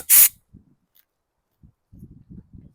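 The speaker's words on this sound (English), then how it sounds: "I spray carb clean here when they're real gummy, and it should slowly drain down" A short, loud hiss of carburetor cleaner sprayed onto a gummy carburetor from a 2017 Craftsman Zongshen 140cc mower, followed by a few faint, scattered knocks and handling sounds.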